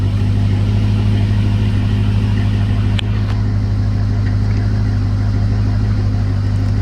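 Corvette C5/C6 V8 engine with exhaust cutouts, a loud steady low rumble held throughout with a brief sharp click near the midpoint, no clear revving swells.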